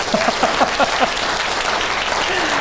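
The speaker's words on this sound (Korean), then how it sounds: "박수를 쳐주시려면 크게 쳐주시고" Audience applause at a talk on seongri study at a Won Buddhist dharma gathering, broad steady clapping from a crowd with a few brief voice fragments layered over it near the start.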